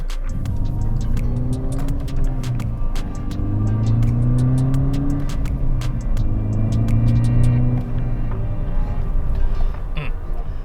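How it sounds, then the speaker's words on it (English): A VW MK6 GTI fitted with an ARM Motorsports turbo outlet pipe accelerates, its engine drone rising and falling in repeated pulls with a thin turbo whine on top and scattered clicks, heard close from inside the car. "you hear that whine just a little bit more because the walls are a little bit thinner, so sound's gonna get through"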